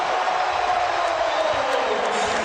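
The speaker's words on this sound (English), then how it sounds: "And the crowd responds." A basketball arena crowd cheers at the 2003 NBA All-Star Game after a made basket, a dense, steady roar that swells evenly throughout with no distinct individual voices.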